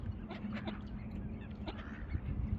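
Ducks quacking along a long river among flocks of birds and white swans, faint scattered calls at a distance over soft outdoor background noise.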